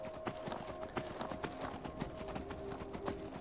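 Horse hooves from Skyrim: Elder Scrolls V on PS3 beat in a quick, steady galloping rhythm, close and moderately loud, with no talking.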